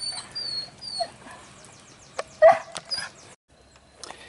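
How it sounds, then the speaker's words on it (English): A dog whimpers in thin high whines and gives a few short barks nearby, irregular and fairly loud, with other faint yard sounds around it. "the dog keeps rolling the ball into the street"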